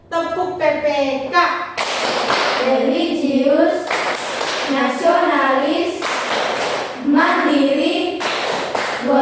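Children clap in a steady rhythm while chanting the Indonesian Tepuk PPK clap chant in class, with loud sharp bursts of group clapping between the sung and spoken lines.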